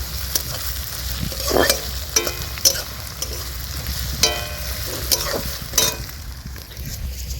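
Onions fry in a pan at a picnic cookout with a steady sizzle, punctuated by repeated scraping stirs and clinks of a spoon against the pan.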